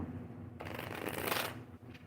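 A deck of tarot cards is shuffled close by, a brief quiet riffle swelling to a soft flutter and then settling.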